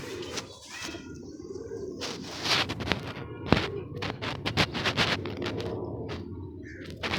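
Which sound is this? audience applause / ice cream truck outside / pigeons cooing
pigeons cooing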